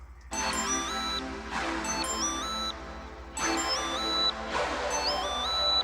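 A bright synth lead plays a repeating melody with gliding, stepping notes over a low steady hum, with no voices.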